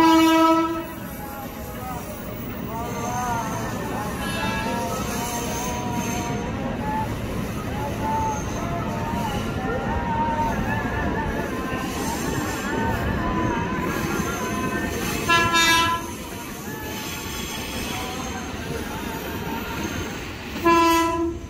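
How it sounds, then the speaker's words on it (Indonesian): A KRL commuter train runs through Manggarai station at rush hour, a steady rumble of cars with a horn sounding near the end, mixed with platform announcements and station ambience. "hati-hati jalur 1, kereta api melintas langsung"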